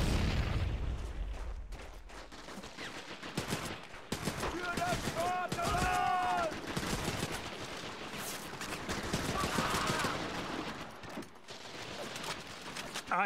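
Gunfire rattles in bursts during a farmhouse liberation battle in Medal of Honor: European Assault, with rifle and machine-gun shots, booms and voices mixed through the fight.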